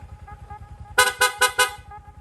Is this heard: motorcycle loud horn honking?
yes